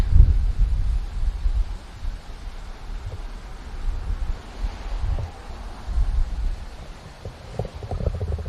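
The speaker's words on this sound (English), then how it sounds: "So as I mentioned earlier, it's pretty windy." Gusty wind on the coast of Key West buffets the microphone with low rumbling bursts, rising and falling steadily with no voices present.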